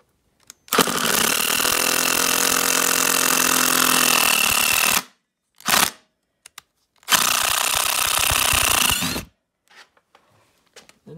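A Bosch 18V impact driver drives a screw into a piece of oak, hammering loudly and continuously for about four seconds, then giving a short burst, then a second long run of about two seconds before stopping, with no talk.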